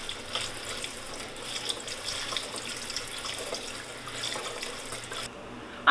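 Tap water pours steadily into the pot of a hoya houseplant, a close, continuous splashing trickle that runs for several seconds before stopping abruptly, with no voices.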